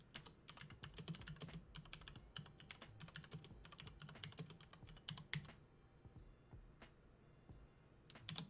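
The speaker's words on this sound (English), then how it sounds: "Sorry, typing again" Fast typing on a computer keyboard, close and quiet, with dense bursts of crisp key clicks that thin out to a few scattered taps toward the end, no voice.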